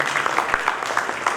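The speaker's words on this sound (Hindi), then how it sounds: "जोरदार तालियां इन महबूबों के लिए।" A brief burst of audience clapping at a Rotary Club gathering, quick and fairly even, with a few sharper individual claps standing out in a moderate-sized room.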